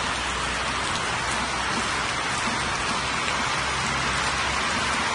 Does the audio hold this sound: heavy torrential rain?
yes